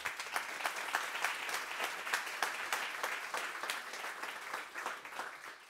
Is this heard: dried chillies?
no